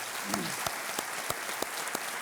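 Studio audience on a televised quiz show (Kaun Banega Crorepati) breaks into steady applause, a dense wash of clapping with a few sharper claps standing out, sustained throughout without speech.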